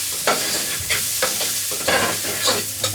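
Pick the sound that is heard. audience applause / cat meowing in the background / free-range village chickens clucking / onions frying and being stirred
onions frying and being stirred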